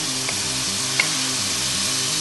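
Fried rice with watermelon, mango, tomato and chili sauce sizzles and crackles steadily in a hot pan, loud and close, with rhythmic stirring scrapes and no talking.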